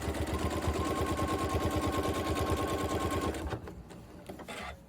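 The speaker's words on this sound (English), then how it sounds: "once I take a few stitches here, we'll see how we did" A sewing machine stitches quilt binding around a corner in a loud, rapid, steady run of needle strokes that slows and stops near the end, leaving a few faint clicks.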